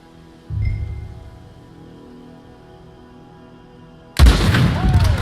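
In Red Dead Redemption 2, a low boom opens, then after a quiet stretch a sudden loud burst of gunshots erupts close by and keeps cracking to the end.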